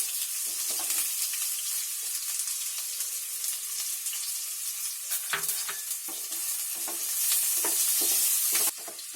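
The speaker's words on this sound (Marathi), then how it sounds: "कांदा टाकते आता." Onion frying in a pan for Chinese fried rice: loud, continuous crackling sizzle with repeated scraping stirs of a spatula, close and steady throughout.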